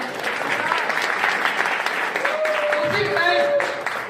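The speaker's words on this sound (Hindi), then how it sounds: "तालियां नहीं होनी चाहिए क्या?" An audience at a network marketing business program claps loudly and continuously, with cheering voices and a brief whistle-like cry rising above the applause near the end.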